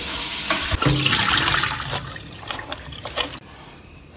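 Tap water running into a sink while crabs are washed, a steady close splashing rush with brief knocks and sloshes, easing off toward the end.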